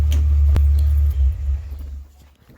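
A Mk2 Golf engine with a misfire and high idle speed idles as a steady low rumble, then gives a click and a brief stutter as it is switched off and fades to near silence.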